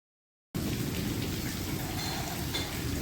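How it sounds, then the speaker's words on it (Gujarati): Heavy rain pours down steadily with a gusting roar of wind, dense and continuous after a brief moment of silence. "તો મિત્રો જો ભયંકર પવન અને વરસાદ સાથે"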